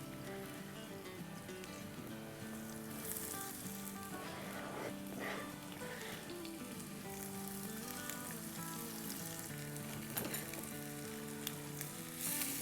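Chopped vegetables hit hot oil with garlic and green chillies, setting off a loud, steady sizzle that runs unbroken throughout, with faint stirring scrapes and a few clinks, and no talking.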